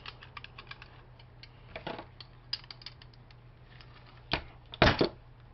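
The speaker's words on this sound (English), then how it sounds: "I'll see if I can get these screws out." Screws being worked out of a small electric motor in a scrapped DVD-ROM drive: a run of quiet, irregular clicks and ratcheting taps, then a couple of louder metallic clatters near the end, with no talk.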